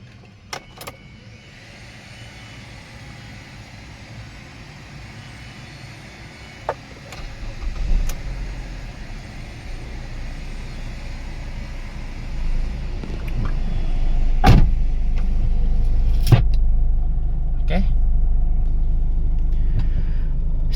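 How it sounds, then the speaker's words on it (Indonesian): A Ford Escape XLT 2.3 facelift with automatic transmission cranks and catches, then settles into a steady low idle rumble inside the cabin, with small clicks and key jangles around the start. "Sekarang kita nyalain nih mobil."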